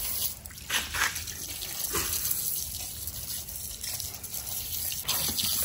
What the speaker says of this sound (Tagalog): Hugasan lang natin pa itong submersible light hugasan na rin natin.